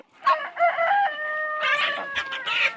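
Local farm chickens crow loudly and up close, a rooster's drawn-out call layered with overlapping clucks and cackles from the flock, no talking.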